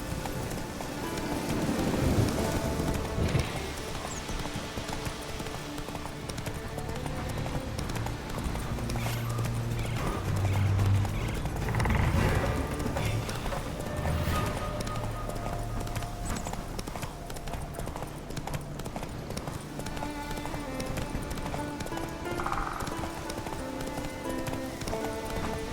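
Roach the horse gallops in The Witcher 3, hooves clip-clopping in a quick rhythmic beat on the ground amid rain and a distant thunder rumble, with music underneath.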